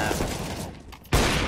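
Bursts of video game gunfire rattle steadily, then thin out briefly before a sharp, loud volley erupts near the end; no one talks.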